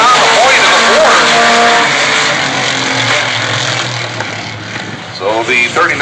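A Renegades-class race car in a heat race at Sandusky Speedway slides through a turn with its right rear hung out, loud engine roar and tire squeal up close, fading slightly as it passes.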